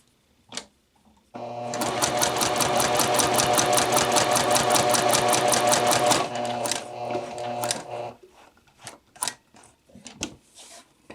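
A sewing machine stitches bound buttonholes in a steady, fast mechanical whir of about five seconds, close and loud, then slows to a few individual stitches and clicks as the fabric is pivoted.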